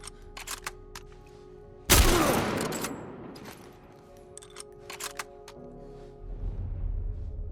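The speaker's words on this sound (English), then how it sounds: "I might just shoot. Have a old-fashioned shootout." Gunfire in The Last of Us Part I comes as a burst of sharp shots followed by one loud blast that rings out and fades, with more scattered shots and rumbling afterward.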